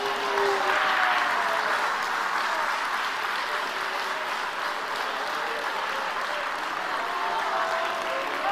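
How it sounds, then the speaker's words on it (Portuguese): A church congregation applauds in a steady, dense wash of clapping that holds at an even level throughout, with faint voices mixed in. "Você pode aplaudir a Jesus."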